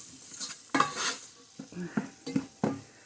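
Vegetables cooking in a pot for ham and potato soup, a soft sizzle underneath repeated scraping stirs of a utensil against the pot, several strokes in an uneven rhythm, close and clear.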